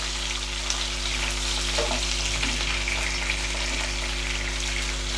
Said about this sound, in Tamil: பச்சை மிளகாய் அப்படி டக்குன்னு பொரிஞ்சிச்சு